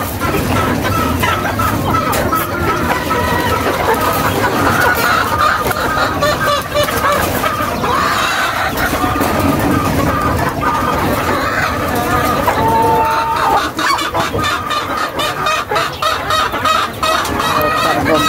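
Chickens and a rooster in their coop, loud close clucking and repeated crowing throughout, with someone talking over the birds.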